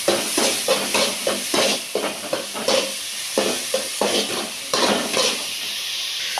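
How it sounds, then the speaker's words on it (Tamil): Tomatoes, onions and green chilies sautéing in a pan, a soft sizzle under repeated rhythmic scrapes and taps of a stirring spoon, up close, with no talking. "தக்காளி வெங்காயம் நல்லா வதங்கி வரட்டும்"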